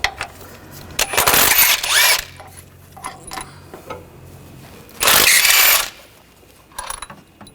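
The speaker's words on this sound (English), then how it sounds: "Using a 14mm socket, take these bolts out" A ratchet with a 14mm socket removes bracket bolts during valve cover work on a 2014-2020 Nissan Rogue 2.5L. Two close, loud bursts of rapid ratcheting are separated by a pause with scattered clicks and taps.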